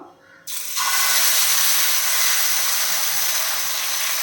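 Moringa dosa batter hits a hot iron griddle and bursts into a loud, steady sizzle that holds at full strength up close after a brief quiet start.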